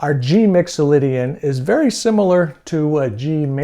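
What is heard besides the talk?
No everyday noises stand out.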